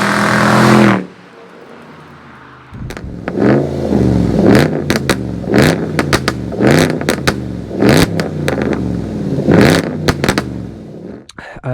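A supercharged Range Rover Sport SC, both catalytic converters removed and straight piped, blips its engine in a run of loud, sharp revs close by, each rising and falling in quick succession after a brief burst and a pause.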